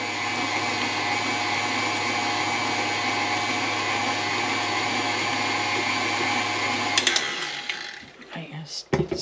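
An electric mixer whirs steadily as it beats homemade fruitcake batter, a continuous motor drone with a faint hum, then cuts out near the end, leaving a few small clicks and knocks.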